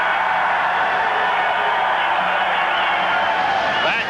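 A basketball crowd in a college gym, Angelo State hosting Abilene Christian, roars in a steady, dense wash of cheering that holds for the whole stretch with no break, over the sound of a busy arena.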